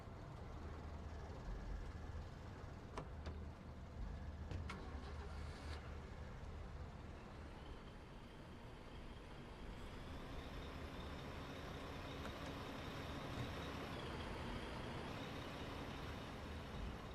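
A truck drives in the war game Foxhole, a steady, loud engine drone running the whole way through with a few brief clanks and hisses near the start.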